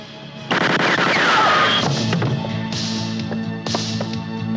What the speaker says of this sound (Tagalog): Putok yun!